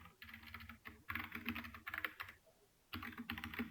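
Code is typed on a computer keyboard in a Java class, quick runs of close, crisp key clicks with a brief pause before a final burst.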